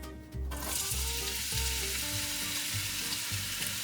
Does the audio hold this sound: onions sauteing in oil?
yes